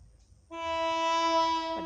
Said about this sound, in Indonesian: di situ ada kereta yang akan melintasi rel ini ya guys